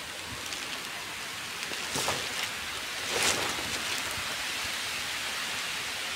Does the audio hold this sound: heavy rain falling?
yes